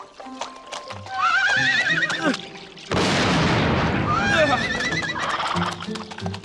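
A cartoon horse gives loud whinnies, with a short silence and then a long noisy stretch of galloping hooves, and more neighing comes over the running.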